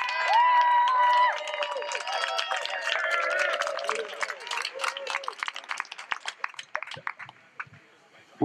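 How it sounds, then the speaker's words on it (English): A rally crowd claps and cheers, loud whoops and shouts ringing over the clapping before it thins into scattered claps and fades out. "Let's give a round of applause for Eric"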